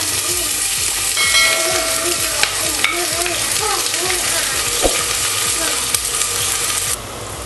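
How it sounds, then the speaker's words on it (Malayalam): Chopped onion sizzles steadily in hot corn oil in a home kitchen as Ramadan dishes are prepared, a close, continuous frying hiss with occasional utensil clinks and stirring, before the sizzle drops quieter near the end. "ഇനി ഇതിലേക്ക് കട്ട് ചെയ്ത ഓണിയൻ ഇട്ട് കൊടുക്കാം."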